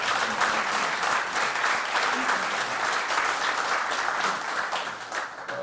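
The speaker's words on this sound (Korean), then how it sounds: "잘 먹었으니까 박수 한번." Audience applause fills a breakfast forum of a defense industry society, steady dense clapping held at an even level for several seconds with no talk over it.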